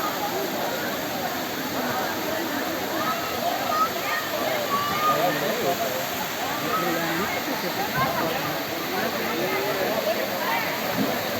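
Water pours steadily at the Poço Azul pool, a continuous rushing wash like a small waterfall, close and even for the whole stretch with no voices.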